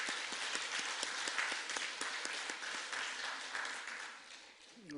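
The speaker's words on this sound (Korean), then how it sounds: "하나님께 영광의 박수 올려드리겠습니다." A church congregation claps together during a Sunday worship service after a choir's singing, producing a steady, even roar of many hands that fades slightly toward the end.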